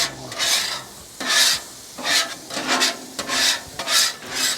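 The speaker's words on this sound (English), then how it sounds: "We're getting some water on there. We're gonna help steam off all that grease and grime and whatnot." Water steams and sizzles on a hot Blackstone griddle while a scraper drags across the surface in repeated rasping strokes, roughly one every second, loud and close.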